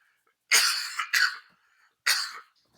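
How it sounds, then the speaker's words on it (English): A person coughs three times, a long harsh cough followed by a shorter one and, after a brief gap, a final cough, close and clear against silence. "I coughed"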